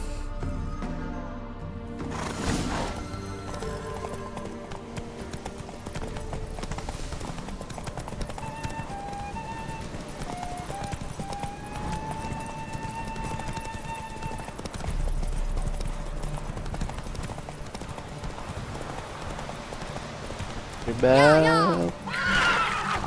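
In The Witcher 3, a horse race plays out with hooves clip-clopping in a steady galloping rhythm under game music, people talking over it, and a loud shrill neigh near the end.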